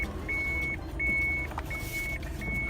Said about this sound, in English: It beeps when I back up.